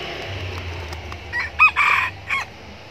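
A junglefowl rooster crows close by outdoors, giving a short burst of strained, rising cock-a-doodle calls in the middle of the clip over a low background hum, followed by a brief final note.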